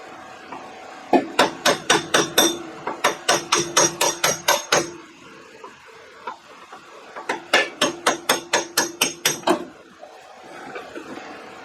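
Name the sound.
hammer tapping off steering part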